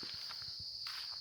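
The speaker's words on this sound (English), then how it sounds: "there's no noise out here except for the crickets" Crickets chirp outdoors at night in a rural setting, a steady high trill joined by soft footsteps walking nearby.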